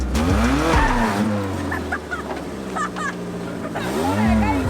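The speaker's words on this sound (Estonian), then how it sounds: "nii et ajame auto kiirelt sisse" A car engine idles and revs close by as the car is driven into a garage, with whining pitch sweeps and a few sharp clicks over a constant rumble.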